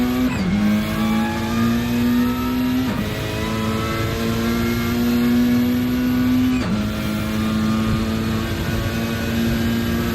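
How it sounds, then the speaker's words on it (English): A TCR touring race car engine screams under load as it climbs uphill, with three quick upshifts marked by brief pitch drops before the revs rise again, loud and close, with no talk. "Uphill early upshift, so pretty sure Shelty is saving some fuel with that early upshift."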